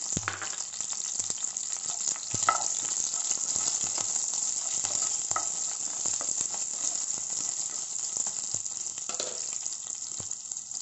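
Onions fry with curry leaves in a pan, giving a steady close sizzle throughout. A few soft clinks of a stirring spoon against the pan come through, and no one speaks.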